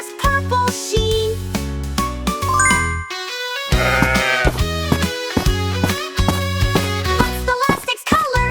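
Bleating sheep sounds set into a bright children's nursery song, with tinkling chimes, steady bass notes and a bouncy rhythm throughout.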